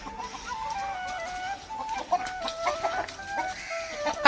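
Chickens cluck and call repeatedly inside a netted enclosure on a farm plot, a busy, fairly close flock with overlapping short calls and a brief louder squawk near the end.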